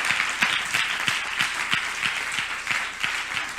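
A church congregation claps for the Lord in a steady round of applause, the dense clapping carrying a loose rhythmic pulse of sharper beats, fairly close and moderately loud throughout.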